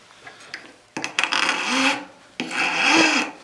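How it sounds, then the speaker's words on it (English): Hand file rasping across metal tubing on a jeweler's bench pin to cut a flat spot, a few light taps followed by two close, gritty filing strokes of about a second each. "what we're doing is filing a flat spot to attach the tubing to"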